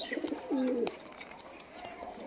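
Pigeons at a pigeon sale coo with one prominent drawn-out call early on, followed by fainter cooing and chirps amid background noise.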